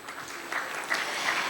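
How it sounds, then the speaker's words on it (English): A room full of people claps at a bartending academy event, a steady, moderately quiet patter of hands that holds for about a second and a half with no voices over it. "Let's clap for CO Tech Experts"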